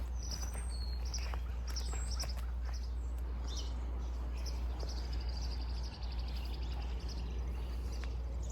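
Wild birds chirp and tweet around a garden bird feeder in late March, scattered light calls over a steady low hum of background noise, with no voices.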